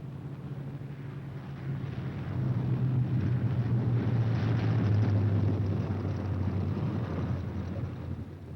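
B-17 bombers arrive at a wartime airfield, some flying on a dead or feathered engine, their engines forming a loud, steady low drone that swells in the middle of the clip and then eases slightly, with no voices.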